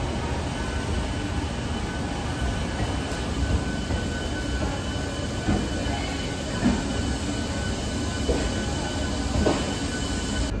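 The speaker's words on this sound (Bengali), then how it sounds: "বর্ধমান থেকে দার্জিলিং মেল ছেড়ে দিল" Darjeeling Mail passenger train pulling out of Bardhaman junction, a steady loud rumble of wheels and carriages rolling over rails with occasional clanks, continuous throughout with no talk.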